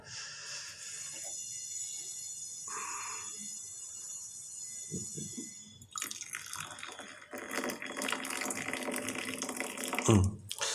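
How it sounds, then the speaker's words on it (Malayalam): After a quiet stretch with faint clinks, water is poured steadily onto flattened rice in a vessel, splashing for several seconds at close range. "ഇതാ അവിനെ നനച്ചുകൊണ്ട് നനയ്ക്കാൻ വേണ്ടിയിട്ട് അതിൽ ഒഴിക്കുകയാണ്"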